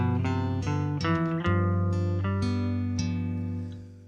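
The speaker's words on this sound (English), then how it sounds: "So then the G Mixolydian scale sounds like this." Guitar plucking a G Mixolydian scale, about eight bright single notes stepping along at an even pace, each ringing into the next, close and clear with no voices.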